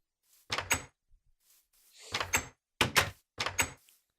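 Arcane doors in the Minecraft FTB Ultimate modpack opening and closing, several short hissing, sliding bursts separated by silence, four distinct sounds heard alone.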